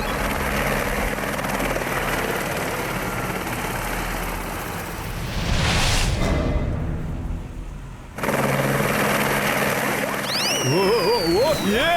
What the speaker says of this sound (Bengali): হেলিকপ্টারের পাকার হাওয়াতে উড়ে গেলাম